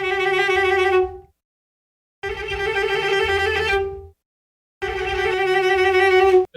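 Four multitracked cellos playing two different trills, each doubled, recorded through a mid-side setup in a studio with control-room bleed; three sustained bursts separated by short silences, full and close, with no talk.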